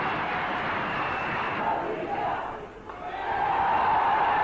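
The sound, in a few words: cricket stadium crowd applauding a batsman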